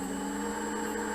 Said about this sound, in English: Now it has that like bearing failure whine